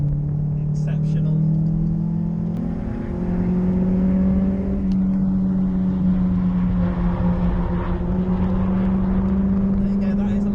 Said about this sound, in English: that is a lap of Bedford Autodrome in my C4